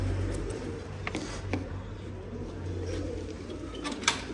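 Pigeons cooing softly and steadily in a loft ahead of a bird auction, low repeated coos with a few faint chirps over a constant background hum, no talking.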